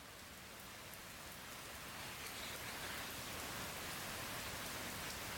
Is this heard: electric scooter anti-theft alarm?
no